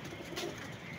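Pigeons sold by a breeder coo softly in a steady low murmur, a faint continuous sound with a rustling background and no talk.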